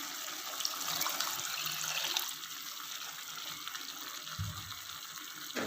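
Water pours steadily into a pot of cooking chana dal (lentils) for about two seconds, a bright rushing splash that then settles into a quieter simmering hiss.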